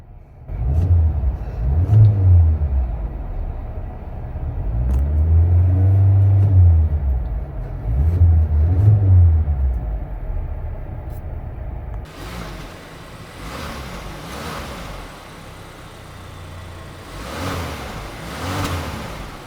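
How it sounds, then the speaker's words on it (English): A 2024 MG One 1.5 CVT car engine idles, then revs up several times in rising and falling swells, fairly close, before settling back to a lower hum. "let's give her a few revs and check how the engine sounds"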